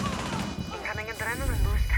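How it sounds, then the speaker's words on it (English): Shotgun blasts in the tactical shooter Rainbow Six Siege, fired to break open a floor, as loud booming bursts mixed with crashing debris and layered game sounds over roughly two seconds. "Use your shotgun to open the floor to protect the diffuser."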